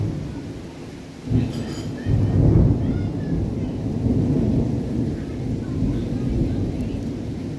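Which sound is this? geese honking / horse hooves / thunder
thunder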